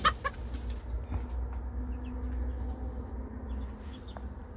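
Young chickens cluck in an outdoor coop in cold winter weather, with a few sharp calls near the start and then softer scattered clucks over a steady low background hum.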